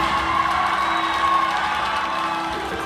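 A basketball game crowd cheers steadily, a dense, continuous roar of many voices filling the arena, loud and sustained without clear breaks.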